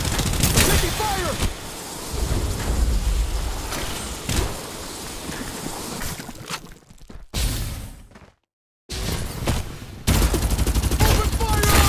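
Gunfire in the video game Farlight 84, dense volleys of rapid shots and bursts, loud and close, with a brief silent gap before the firing resumes.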